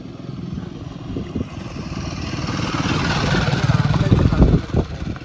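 Motorbikes ridden past by a group of riders on a road toward Ponmudi forest, a low rumbling engine drone building louder over a few seconds as they pass nearby, with faint voices in the background.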